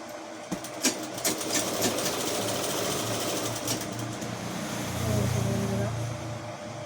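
A sewing machine stitches a border strip onto a sari, its steady mechanical whirring running close and continuous, rising in pitch near the end, with a voice speaking over it.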